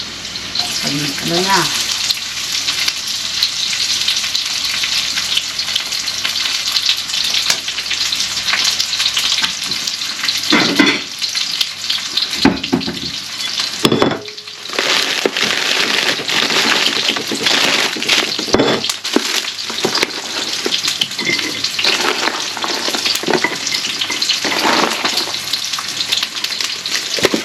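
Onions frying in a pan for Filipino pancit give off a loud, continuous sizzle close by, broken by stirring scrapes and bursts of crackle, with a brief spoken remark over it.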